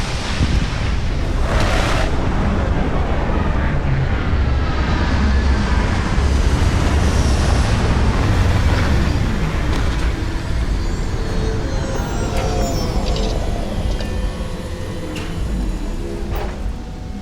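Spaceship landing in the video game Starfield, a sustained loud roaring rush of engine thrust and wind-like noise with a sweeping whine, gradually settling toward the end.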